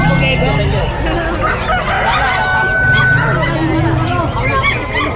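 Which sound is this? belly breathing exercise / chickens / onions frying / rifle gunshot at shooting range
chickens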